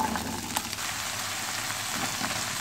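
Peas tip into a hot pan of olive oil with garlic-ginger paste and carrots, setting off a steady, dense sizzle that holds at an even level throughout, with no voices.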